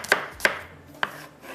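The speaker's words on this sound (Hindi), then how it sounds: "स्लाइस में प्याज कटिंग करेंगे" A knife slices onions on a cutting board with three sharp, close taps at an uneven pace and no voices.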